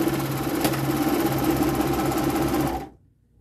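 A serger sewing along a fabric edge and trimming it at the throat plate, a loud, close, steady mechanical whir and rapid stitching rhythm for nearly three seconds before stopping abruptly.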